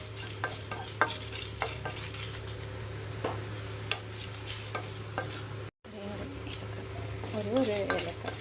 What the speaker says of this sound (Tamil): நல்லா ட்ரை ரோஸ்ட் பண்ணிக்கணும்.